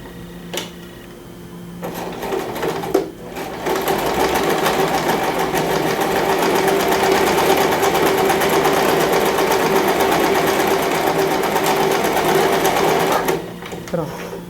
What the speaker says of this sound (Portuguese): Vou costurar.